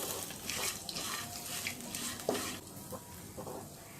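Turmeric and salt are stirred into tempered ingredients in a pan for Telugu-style amla rice, a soft continuous sizzle with scraping stirs and one brief clink, close and fairly quiet.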